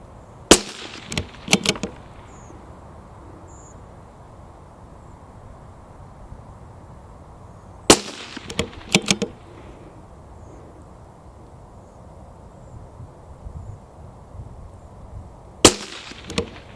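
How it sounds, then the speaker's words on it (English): A CZ 457 rifle in 17 HMR fires outdoors. Three separate sharp reports come about eight seconds apart. Each crack is followed by a few fainter clicks or echoes, over a low background of wind. "we've had 15 sequential rounds into 3 groups there"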